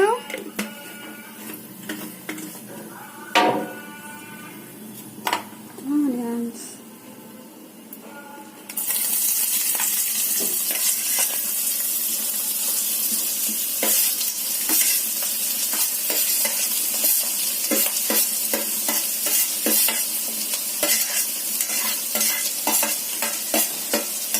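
Onions and other ingredients being stirred and fried in a pan for a prawn curry, first soft scrapes and a voice, then a sudden steady loud sizzle with constant clinking stirs.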